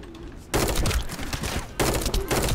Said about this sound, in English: it's a burst rifle